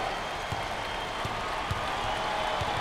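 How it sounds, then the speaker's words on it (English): An arena crowd at a Big Ten tournament basketball game between Penn State and Indiana keeps up a loud, steady roar with scattered claps and thumps cutting through. "Listen to the crowd."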